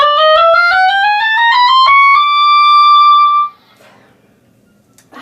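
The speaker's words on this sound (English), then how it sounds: "The middle register is from F, the first F on the staff, up to high D" An oboe plays a rising run of quick notes in its middle range, then holds a clear, loud tone before stopping.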